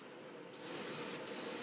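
Duracoat spray paint hisses steadily from a spray gun onto a part being prepped for hydro dipping, a continuous close airy spray with two brief sharper bursts.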